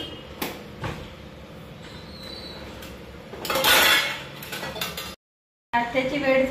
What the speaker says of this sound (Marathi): पूर्ण भांडे सुकल्यानंतर मी सकाळला भांडे लावून घेते